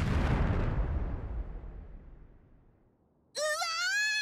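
A loud explosion outside a mansion in an alchemy adventure game, a heavy blast that rolls off and decays into quiet over about three seconds before a bright, tonal game sound cuts in.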